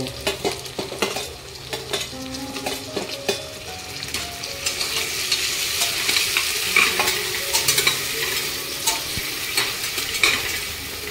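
Chopped onion, tomato and green chili sizzle and fry in a pan, with steady crackling and repeated scraping stirs of a spoon against the metal, fairly close and without talk.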